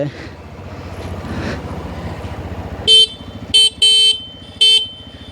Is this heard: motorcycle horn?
yes